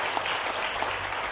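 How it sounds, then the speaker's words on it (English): An audience at the Artenit anniversary ceremony gives a round of applause. The dense, even clapping from many hands continues without a break for the whole moment, and no voices are heard. "please join me in giving a big round of applause to Artenit for this truly laudable initiative"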